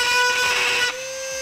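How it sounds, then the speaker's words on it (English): A rotary tool grinds a small notch in a plastic tail light cap on a 2015 Jeep Wrangler, giving a steady, close, high-pitched whine that drops slightly as the cut finishes. "Now I'm just gonna use a rotary tool to grind out a small section."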